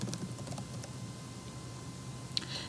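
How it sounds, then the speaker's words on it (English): Light typing on a computer keyboard while entering a formula in Google Sheets: faint, scattered soft clicks at an uneven pace, with one slightly sharper tap near the end. "Start by typing an equal sign and then the word hyperlink."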